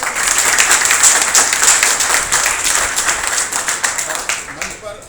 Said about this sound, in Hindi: जोरदार तालियां आप साथ में।